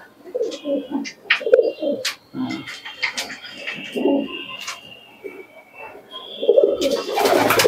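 Racing pigeons of tournament stock cooing close by in repeated throaty bursts, with scattered chirps and light voices in the background and a louder flurry near the end.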